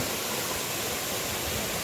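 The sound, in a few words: forest stream cascading down like a waterfall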